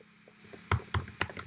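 Typing on a computer keyboard: a few soft early taps, then three distinct, close keystrokes evenly spaced about a quarter second apart, alone without talk.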